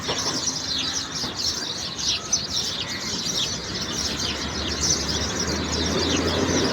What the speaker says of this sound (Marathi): पक्ष्यांचा किलबिलाट आहे का, मस्त वाटतंय.